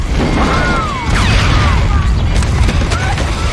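A trailer grill explosion in the horror film Bubba Ho-Tep: a loud, rumbling blast with crackling debris and a sustained roar that lasts several seconds, with no voices over it.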